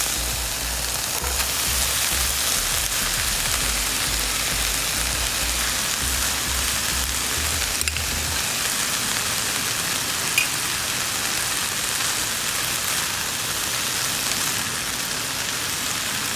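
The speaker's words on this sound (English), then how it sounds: "So I'm going to start with 2 cups of rice." Cooked rice goes into a hot pan for vegan broccoli fried rice, giving a steady loud sizzle and crackle throughout, with a low hum in the first half.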